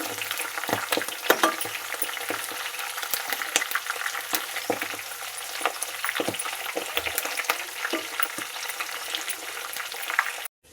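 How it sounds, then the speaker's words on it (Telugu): Fenugreek seeds and herbs frying in oil for homemade hair oil, a steady close sizzle with scattered small pops and crackles running throughout, no voices. "ఇలా ఆయిల్లో ఉడికించాలి"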